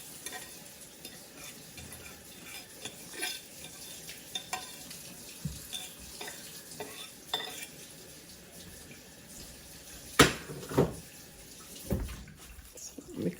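Already-fried onions stirred around a pan, a soft, low sizzle with scattered light scrapes and clinks of the utensil, growing a little busier toward the end.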